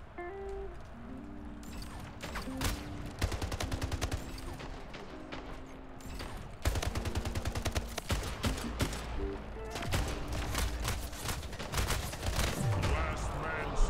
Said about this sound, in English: I missed so many shots with the assault rifle.